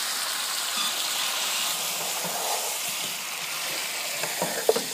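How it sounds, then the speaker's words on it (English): Crushed red peppers frying in a pan for chicken biryani give a steady, close hiss. Faint stirring clicks and scrapes come near the end, and no voices are heard. "We're going to stir it."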